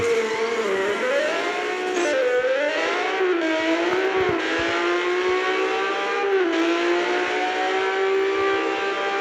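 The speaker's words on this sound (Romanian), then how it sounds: "Mie mi se pare că asta are motor de Lambo." Loud, steady synthetic car engine from a racing video game, with a Lamborghini-style sound that rises and falls in pitch as it revs and shifts, running without a break throughout.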